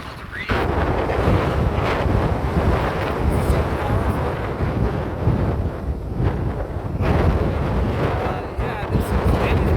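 Roaring 70 mph wind gusts at Goat Rock State Beach on the ocean coast, buffeting the microphone in a constant loud rumble with surf noise beneath, while a person talks intermittently.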